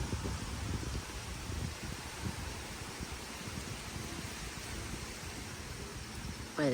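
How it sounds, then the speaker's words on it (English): Steady wind blows outdoors on a morning, a continuous rushing, buffeting noise over the microphone with soft rustling underneath and no clear voices. "But it's very windy."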